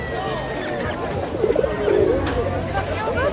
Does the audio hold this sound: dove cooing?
yes